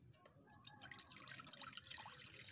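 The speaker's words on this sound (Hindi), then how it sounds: "पैन के अंदर हम डालेंगे थोड़ा सा पानी।" A little water is poured into a cooking pan before making a mince and green bean curry. The trickle and splash are faint but continuous, heard alone.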